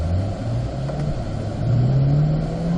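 A race car lapping a track in fourth gear, its engine droning loud and close with rising pitch as it accelerates, steady and continuous without talk.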